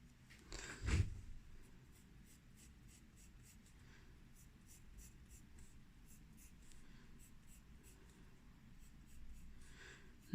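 A pencil draws steady construction lines on paper, a continuous soft scratching with repeated short strokes and a louder rub near the start, close and alone.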